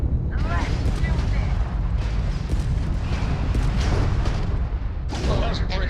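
Starfield space combat rumbles with dense, continuous booms and blasts as missiles fire and explosions roll, a loud wash of game effects with a fresh burst near the end while voices talk over it.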